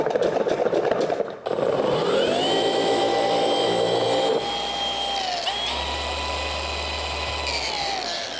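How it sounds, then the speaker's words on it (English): A 21 mm dual action car polisher runs steadily with a loud, sustained whine that shifts pitch as the tool changes speed, close up and with no talk. "So we're using a 21 millimeter DA."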